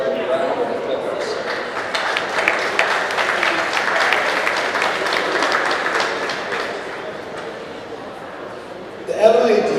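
Audience at an awards ceremony breaks into sustained applause, a dense wash of clapping hands that holds steady for several seconds before tapering off, with a voice rising briefly at the end.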